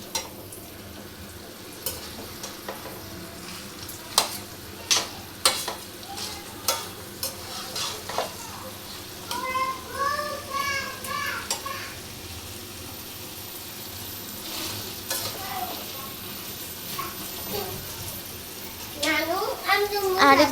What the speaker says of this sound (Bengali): এবার ভালোভাবে নাড়াচাড়া দিয়ে মিশিয়ে নিব।